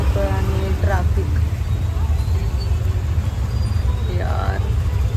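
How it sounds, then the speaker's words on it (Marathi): Road traffic on a city street rumbles steadily nearby, with vehicle engines, a couple of brief horn-like tones and someone speaking over the noise. "आणि ट्रॅफिक"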